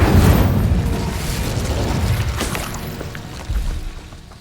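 Incendio fire spell cast in Hogwarts Legacy gives a loud rumbling whoosh of flame that surges at first, fades slowly, then flares again briefly near the end.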